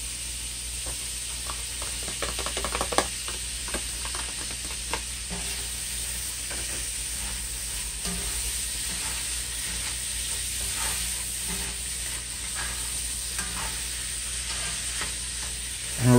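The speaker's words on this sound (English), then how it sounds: "Now I'm gonna add my onions." Onions frying in a pan for a saltfish dish with zucchini and yellow squash, giving a steady, close sizzle and hiss with occasional stirring clicks and scrapes throughout.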